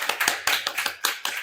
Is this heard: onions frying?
no